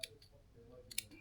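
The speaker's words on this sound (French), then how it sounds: "Au ras de cette couture, je vais couper." Scissors cutting fabric close to a seam, a couple of faint, brief snips separated by quiet, in a hushed room.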